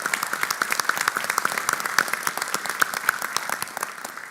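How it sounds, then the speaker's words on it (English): Sustained applause from a crowd at a commission meeting, honoring a police honor guard, dense overlapping claps continuing steadily throughout at a fairly loud level, with no talking. "I'd ask that you give a round of applause"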